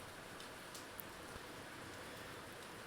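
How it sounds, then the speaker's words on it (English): Light rain falling steadily outdoors, a soft even hiss of drops with a few faint pattering ticks, continuous and fairly quiet throughout. "You get a little bit of rain on you, but not much."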